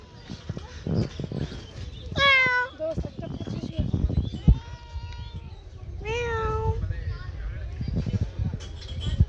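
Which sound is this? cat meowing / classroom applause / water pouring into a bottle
cat meowing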